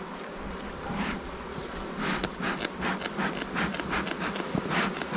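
Honeybees swarm over an open beehive frame with a queen excluder, giving a steady close buzz with rising and falling swells and small wooden rubbing knocks, no voices.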